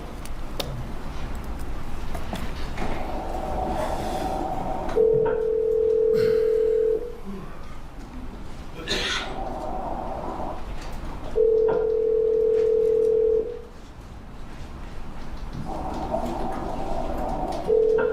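Telephone call ringing through to a voicemail box, with long repeated ringback tones separated by pauses over a background hum, sounding as if played back through a courtroom speaker.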